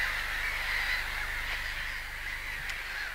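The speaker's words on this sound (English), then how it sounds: "you'll have to put up with the gull colony if you park at this end, which is quite noisy" Gulls in a colony at the western end of a tidal creek anchorage with visitor moorings call in a steady, dense chorus of overlapping squawks, moderately distant and continuous.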